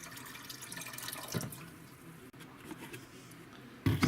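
A quart of apple juice pours into an apple pie moonshine mix as a close, continuous splashing trickle. There is a brief pause partway through, then a louder gush at the end.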